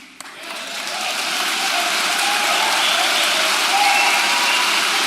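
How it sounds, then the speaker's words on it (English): A live audience at a debate breaks into applause, rising quickly from quiet into sustained, broad clapping that holds loud to the end. "Why are you all applauding about that?"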